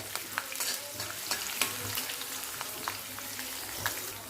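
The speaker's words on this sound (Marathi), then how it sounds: "मी बारीक कट केलेला बटाटा घालणार आहे हे बघा अशा पद्धतीने बारीक अशा फोडी केलेले साल काढून ते घालायचं आता छान भाजून घेऊया" Diced raw potato, peanuts and chili frying in a pan, a steady sizzle broken by repeated stirring scrapes and clinks at an uneven rhythm, close and fairly loud with no talk.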